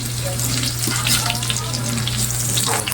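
Garlic frying in a pan beside pork, a loud close crackling sizzle with a constant low hum underneath, no talking.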